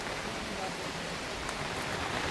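Heavy rain pours down in a dense, continuous hiss heard from under an umbrella, steady and close with no clear voices.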